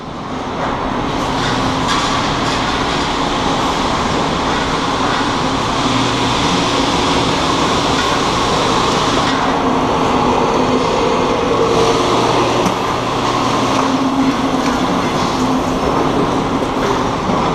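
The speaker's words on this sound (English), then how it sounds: "The powder runs up this conveyor to the top of the machine and is fed in." A conveyor machine carrying metal powder up to the top of the machine, a loud, steady mechanical roar and rattle that runs without a break, close by and with no talking.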